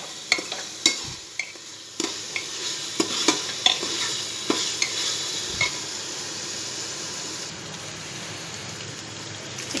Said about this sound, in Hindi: और अदरक और प्याज। इसको तब तक भूनेंगे जब तक इसका कच्चापन नहीं चला जाए।